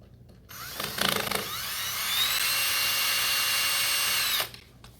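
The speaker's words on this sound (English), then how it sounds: "And so now I'm ready to put in my screw." A power drill drives a screw into a boat transducer mounting bracket, with a short trigger burst and then one steady high whine lasting about three seconds before it stops, close and loud with no talk.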